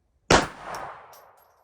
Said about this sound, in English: this is the 71 grain factory ammo. Let's give it a little shot here.